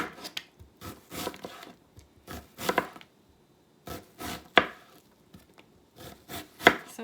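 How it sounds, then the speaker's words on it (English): Knife dicing a red onion on a cutting board, heard as close, crisp bursts of quick cuts in short runs separated by brief pauses. "now I'm just gonna cut in cute little dices"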